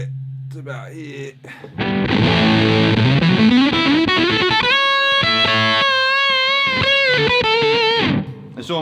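An electric guitar fed through a fuzz pedal gives a distortion-like tone. After a quieter opening, a loud passage swells in, with a rising slide into sustained notes that hold dense, buzzy harmonics before cutting off.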